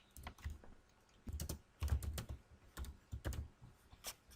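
Code being typed on a computer keyboard in bursts of quick clattering keystrokes with short pauses, close and fairly quiet, no talking.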